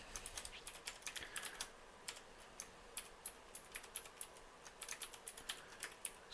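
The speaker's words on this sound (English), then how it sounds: "We're going to type lh" Rapid typing on a computer keyboard, a steady run of crisp close key clicks with irregular rhythm and occasional brief pauses, quiet and alone with no talking.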